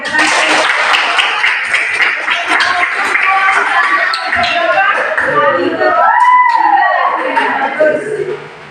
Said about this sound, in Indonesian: Kita beri sekali lagi tepuk tangan untuk teman kamu yang udah mau maju ke depan ya.